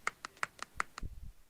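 Someone on a podcast claps or taps with their hands: about six sharp, evenly spaced hits in quick succession, close and fairly faint, followed by a soft low rumble.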